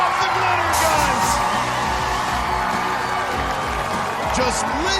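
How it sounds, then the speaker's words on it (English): A crowd at an American Ninja Warrior Junior course cheering and whooping after a competitor's finish, a loud, sustained roar with a commentator talking over it. "Just listen to the crowd cheering, showing their appreciation for this resilient performance."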